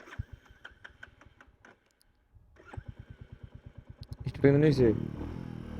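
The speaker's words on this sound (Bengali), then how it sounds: "স্টার্ট অফ হয়ে গেল দেখি আবার ট্রাই করি" A Royal Enfield motorcycle engine cranks and fires in rapid chugging thumps, dies into silence, then restarts with a louder rhythmic thumping and a brief revving roar, close up.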